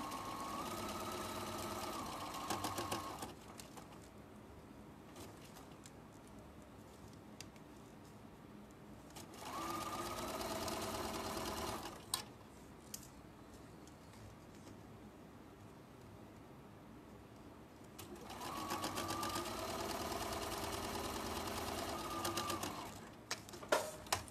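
A sewing machine stitches a pinned sawtooth star quilt block in three long, steady runs of fast whirring and needle clatter, separated by quiet pauses, close and moderately loud.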